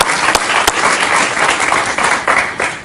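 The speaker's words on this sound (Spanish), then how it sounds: "Un aplauso para Antonio." Studio audience applause on a Spanish-language talk show, loud close clapping rising in bursts and sustained over a few seconds.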